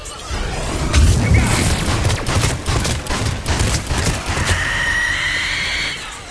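Missile salvo launching in Mass Effect 3, a dense rush of whooshing and rumbling bursts that swell and overlap for several seconds, followed by a steadier high hiss as the barrage streaks away.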